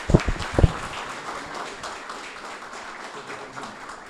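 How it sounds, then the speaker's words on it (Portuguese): A small audience welcomes the speaker Rodrigo at an evening talk with a few sharp, close claps at the start, then softer sustained clapping continuing at a moderate level. "eu peço uma salva de palmas para o Rodrigo e seja muito bem-vindo"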